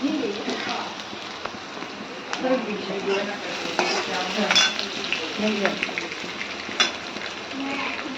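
Dal tadka tempering of garlic, onion and dried red chilli sizzling and crackling in a pan, with stirring scrapes and small pops, a voice speaking over the frying.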